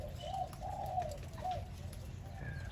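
A pet songbird of a pied fancy type, kept as a tame bird, calls in a few short, soft phrases over steady low background noise, fairly faint and at a middle distance.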